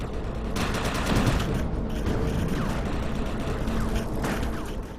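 Sustained gunfire rattles through a firefight in the Defiance video game, dense overlapping bursts with a mechanical clatter running steadily for several seconds at close range, no voices.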